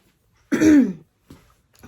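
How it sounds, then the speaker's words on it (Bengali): A single person coughs and clears the throat up close: one rough, voiced burst followed by two shorter, softer catches separated by silence. "গলা খুসখুস করছে কাশি হচ্ছে"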